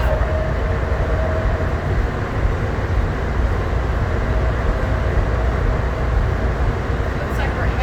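Denver airport's automated train runs from the terminal to Concourse C, a loud, steady rumble and rattle heard from inside the car that continues without a break.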